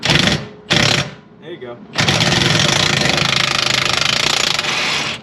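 Bursts from an impact wrench on a subframe bolt nut of a 2004 Saab 9-3 Aero come up close and loud: two short blasts, a pause with a brief spoken remark, then a long continuous rattling hammering run.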